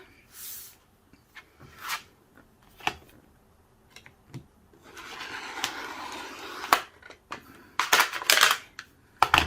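A Cricut aluminum sheet is cut along a straight edge, producing scattered crisp scraping and snipping sounds in short bursts with quiet gaps between them, denser toward the end.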